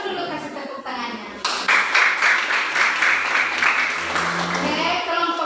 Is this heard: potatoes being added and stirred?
no